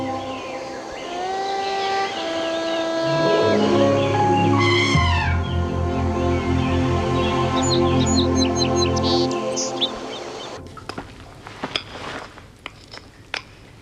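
Birds chirp and sing amid a layered electronic soundscape in a 1999 French science-fiction TV series, with sustained tones and swooping effects giving way to scattered sharp chirps near the end.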